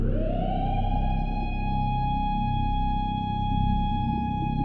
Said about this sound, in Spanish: Era una vieja sirena de tornado, programada para marcar los últimos 5 minutos de luz diurna.